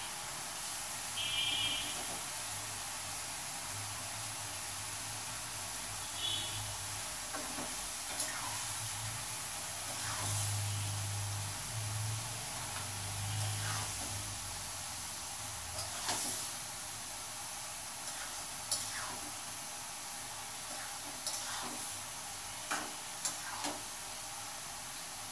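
Fish fries in a pan, seasoned only with turmeric and chili in a village-style home kitchen, a soft steady sizzle and hiss with occasional stirring clinks and scrapes close by.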